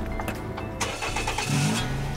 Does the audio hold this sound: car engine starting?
yes